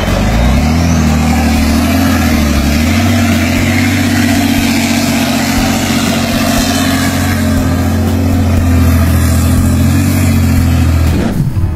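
A truck hauling timber grinds along a rough road, its mid-pitched engine droning loud and steady for the whole stretch before cutting off abruptly at the end.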